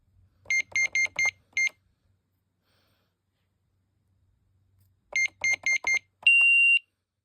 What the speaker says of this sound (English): Say that's the chime and